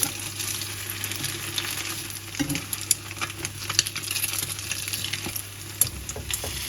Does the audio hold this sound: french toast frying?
yes